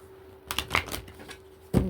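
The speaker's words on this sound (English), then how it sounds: "let me just do a couple shuffles" A deck of tarot cards is given a couple of quick shuffles, heard as close, crisp riffling bursts with a short pause before a final flutter.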